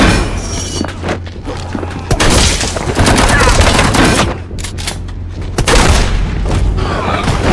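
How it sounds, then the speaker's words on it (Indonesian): Gunfire erupts in a film shootout, a dense, loud barrage of overlapping shots and booming impacts with continuous rumble, sustained for the whole stretch with brief dips between bursts. "tembak-tembakan pun tak terhindarkan"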